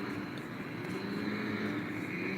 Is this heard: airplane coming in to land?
yes